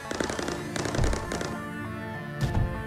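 Turrets firing in the video game Mindustry: bursts of rapid, crackling shots in quick clusters, a sharper burst near the end, fairly close over a low game hum.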